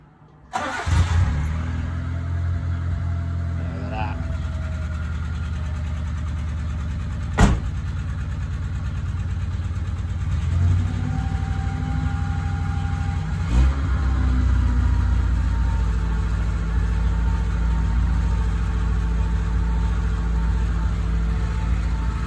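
A small car engine, on a Mini or Gen3 Honda Civic being worked on, cranks and catches with a sharp burst, then settles into a steady, loud idle with a couple of brief revs.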